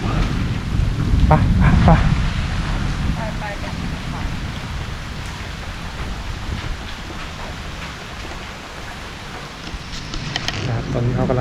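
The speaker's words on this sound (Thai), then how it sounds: "เพราะว่าฝนตกฟ้าร้องครับตอนนี้" Rain falls steadily near a cave site in Thakhek, Khammouane, Laos, with a low rumble of thunder swelling early on, while someone talks over the constant wash of the downpour.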